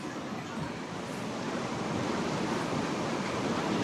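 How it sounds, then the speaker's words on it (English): Steady, broadband rushing of the flowing Rhone River, a continuous wash of moving water that stays constant and fairly close throughout, with no voices. "we are surrounded by the Rhone River"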